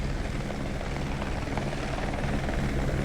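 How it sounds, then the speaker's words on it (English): Helicopter engine and rotor droning steadily in a constant, moderately distant hum, with no talk over it. "it looks like I might actually fly the helicopter"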